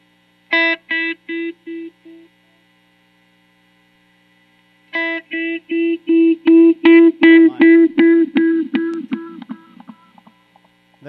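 An electric guitar runs through a Small Stone phaser into a Memory Man delay, plucked notes repeating in a rapid train that swells and builds into a loud self-oscillating run, then fades out in decaying echoes.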